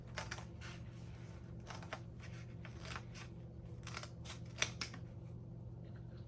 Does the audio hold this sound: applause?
no